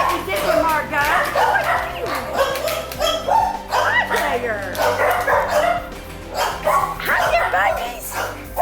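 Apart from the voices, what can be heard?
puppies and mother dogs barking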